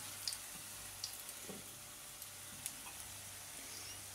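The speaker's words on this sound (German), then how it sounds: "Zischen." A soft, steady hiss of fish frying in a pan, faint and continuous, with a few small pops and clinks.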